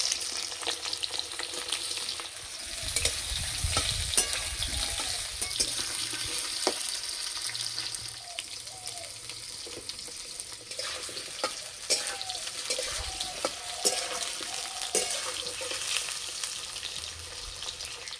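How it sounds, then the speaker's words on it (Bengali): Potatoes fry in oil in a kadai (wok), a steady close sizzle with occasional stirring scrapes and clinks, moderately quiet and without talk throughout. "কড়াইয়ে তেল দিয়ে আলু ভেজে নেব।"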